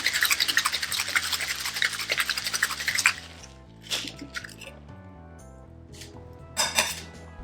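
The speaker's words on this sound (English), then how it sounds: "give it a good shake" Cocktail shaker packed with ice and a simple-syrup drink shaken hard, a rapid rattling rhythm for about three seconds, then a few scattered clinks over background music.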